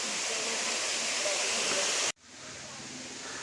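The Ayyappanovu waterfall makes a loud, broad, steady roar up close, which cuts out abruptly near the middle and then returns more softly.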